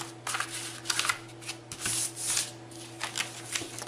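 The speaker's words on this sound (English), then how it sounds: "So you'd fold it in half diagonally, the other direction diagonally" Paper creased and folded for an origami rose, a series of close, soft rustling and sliding strokes in irregular bursts over a low steady hum, with no talk over them.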